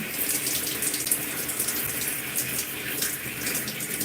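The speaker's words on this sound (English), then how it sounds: "Rinsing out my clips." Steady running tap water splashing into a sink while hair clips are rinsed during a wash day, a continuous close hiss with no voices.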